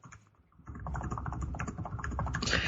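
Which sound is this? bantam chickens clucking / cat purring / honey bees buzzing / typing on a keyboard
typing on a keyboard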